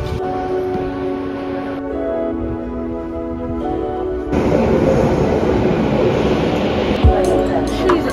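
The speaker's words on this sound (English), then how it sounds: "Underground train." A London Underground Bakerloo line train, first a quieter tonal hum, then a loud, close roar of wheels and motor noise that swells suddenly and continues with occasional clunks.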